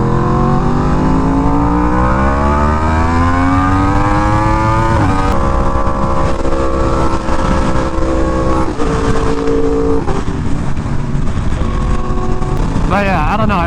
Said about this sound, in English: I really like the sound of this bike